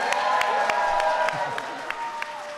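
Audience applause at an event with the US President, greeting a student's mother in the crowd, with clapping and cheering steady through the moment and occasional sharper claps standing out.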